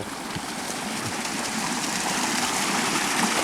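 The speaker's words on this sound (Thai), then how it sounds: "ได้ยินเสียงน้ำไหลไหมครับ" Continuous rushing water, a steady stream flowing nearby, with a faint low rumble underneath and no talking.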